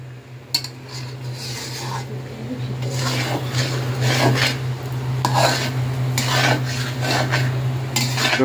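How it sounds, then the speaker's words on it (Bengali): Grated coconut is stirred in a pan while making naru, a continuous close scraping and rasping of a metal utensil against the pan with a low steady hum underneath, no speech. "নাড়াচাড়া দিতেছি"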